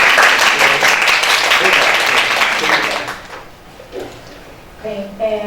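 Applause from the audience at a Brazilian academic lecture series, dense and steady for about three seconds before fading, with a voice beginning to speak as it dies away.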